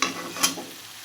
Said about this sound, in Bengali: এখন পটল আলু দিয়ে এখন ভালো করে মাখা করে ভেজে নেবো।